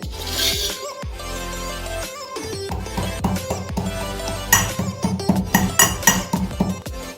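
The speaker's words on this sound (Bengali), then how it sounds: "এবার এই রসুন আর লঙ্কাটাকে আমি হামাল দিস্তার মধ্যে দিয়ে দিচ্ছি, দিয়ে এটাকে একটু গোটা গোটা পেস্ট বানিয়ে নেব।" Garlic cloves and green chillies pounded by hand in a mortar and pestle for a coarse paste in a Bengali ridge gourd bharta kitchen: a run of close, irregular clinking and thudding strikes, getting quicker and sharper toward the end, with no talk.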